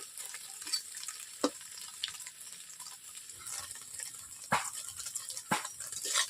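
Small cubes of paneer fry in hot oil in a pan, giving a steady soft sizzle. A few sharp clinks and scrapes of a spatula cut through it at intervals, with no talking.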